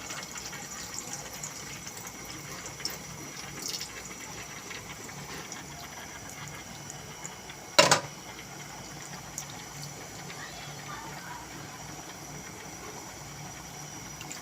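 First-press coconut milk is poured into a crab dish, making a soft, steady liquid wash with one brief louder splash near the middle and no voices.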